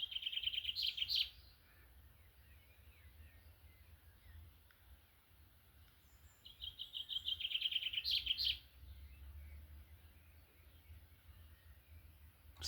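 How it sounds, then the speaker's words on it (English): Birds singing in rural Ireland under cloudy skies, with two bright bursts of high, rapid chirping song a few seconds apart over a faint low rumble, fairly distant and quiet. "So that's the birds singing here in rural Ireland"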